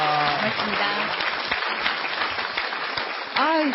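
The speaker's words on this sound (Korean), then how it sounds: "이영건 박사님께 다시 한번 큰 박수로 감사 인사를 전하고 싶습니다" Loud sustained applause from a crowd fills the whole stretch, with a brief voice cutting in near the end.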